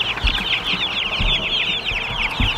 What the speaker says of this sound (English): Now these monster chickens.